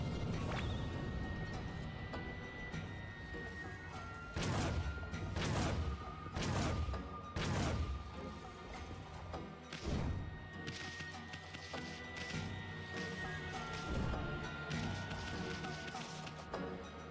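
Cannon fire in an assault on the Ark of Yamato plays as a string of sharp broadband booms and impacts, roughly every two seconds, over a dense game soundscape with music and voices.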